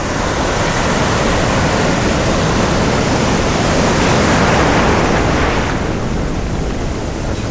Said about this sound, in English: Not sure how well this is going to work, because the waves are quite big.